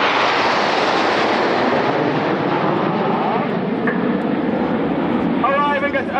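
A Red Arrows jet roars past overhead at over 400 mph during an airshow display at Old Buckenham, a loud, sustained broadband rush with a descending pitch sweep, while a commentator talks faintly underneath.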